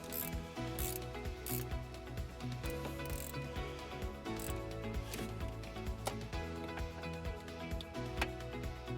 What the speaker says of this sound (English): We're going to go ahead and remove that nut using a 10mm socket.